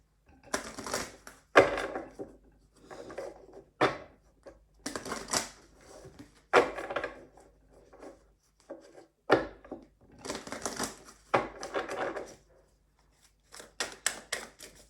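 Tarot cards being shuffled and drawn, a run of papery riffles, slaps and soft card snaps in irregular bursts with brief pauses, close and moderately quiet, no voices.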